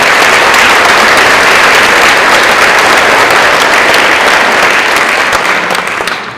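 A concert audience gives loud, dense, sustained applause at close range, steady and unbroken before tapering off in the final second.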